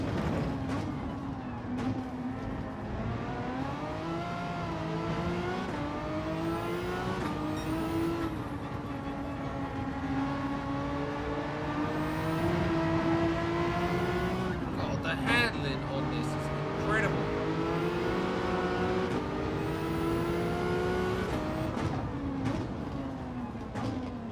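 Gran Turismo 7 race cars, including a BMW, drone and rev continuously at close range, engine pitch rising and falling through gear changes and braking, with a voice talking over the engine noise throughout.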